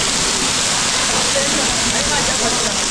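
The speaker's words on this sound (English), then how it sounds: "I'm under the rock, and that's the waterfall." Sheldrick Falls in Kenya's Shimba Hills roars from close range beside a rock overhang, a loud, dense and unbroken rush of falling water that holds steady throughout.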